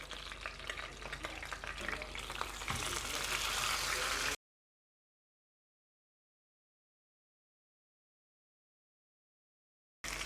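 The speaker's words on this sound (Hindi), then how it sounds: "इसी तरीके से दूसरा पीस भी फ्राई करूँगी" Mutton pieces fry in a pan for about four seconds, a dense steady sizzle with faint stirring scrapes, then silence for most of the rest before the frying resumes briefly at the end.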